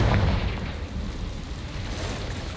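Confringo fire spell bursting in Hogwarts Legacy, a deep rumbling boom that hits hard at the start and decays into a rolling fiery roar, alone with no voices.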